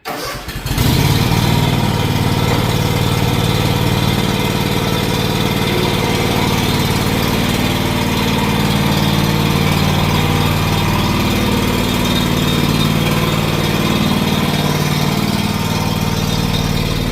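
A 2012 John Deere X304 all-wheel-steer lawn tractor engine fires up after a brief crank, then settles into a loud, steady running drone close by, continuing without any talk.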